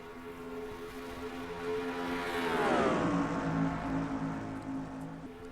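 Race cars roar off at the green-flag start in the NASCAR Racing 2003 video game at Oregon Speedway, a droning engine pack that swells and sweeps in pitch as the field passes, then settles into a steady hum.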